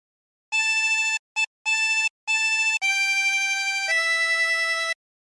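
A harmonica plays a short phrase of the hymn Holy Holy Holy: bright, steady sustained reed tones, starting with choppy notes and ending on longer held ones, played alone, close and clear.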